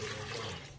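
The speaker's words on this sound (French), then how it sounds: "Donc, on va ajouter l'eau. Là, c'est 1 litre d'eau." A litre of water poured into a container while making liquid soap at home, a brief continuous rushing splash, close and steady without speech.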